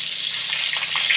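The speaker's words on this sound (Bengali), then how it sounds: "তখন আমি এক এক করে বেগুনগুলোকে দিয়ে দেবো। বেগুনটাকে একটু লালচে লালচে করে ভাজবো।" Eggplant pieces frying in hot oil in a wok make a dense, close sizzle with a few brief pops and crackles, steady and loud throughout with no voices.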